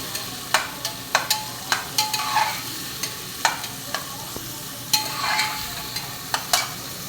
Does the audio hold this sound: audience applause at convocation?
no